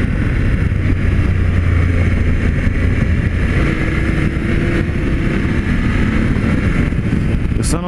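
A BMW F 750 GS Premium 40th anniversary edition motorcycle rides along, its engine droning low and steady beneath heavy rushing wind noise, loud and continuous throughout.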